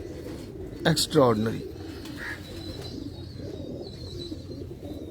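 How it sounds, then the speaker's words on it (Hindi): Red-eyed pigeons kept by a fancier in Lahore give a short burst of throaty, rolling coos close by, then fall quiet, while someone speaks briefly over a soft background hum. "ये हैं जी रेड आइज के कबूतर"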